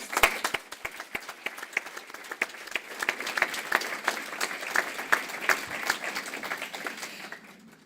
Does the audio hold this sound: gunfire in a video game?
no